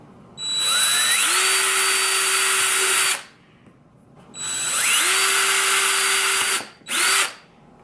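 Small drill bit boring a small starter hole, likely into a plastic dry pod for fishfinder mounting: two long whining bursts of about three seconds each, winding up in pitch, then a short final burst, close and loud.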